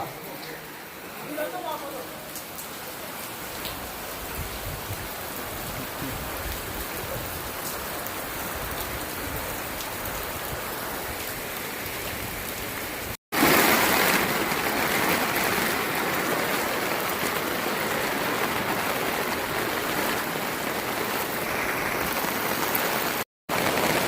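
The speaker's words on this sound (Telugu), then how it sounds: "అరుణాచలంలో భారీ వర్షాలు అన్నమాట" Dense, steady roar of heavy rain and rushing water in Arunachalam, continuous throughout, growing louder partway through after a brief cut.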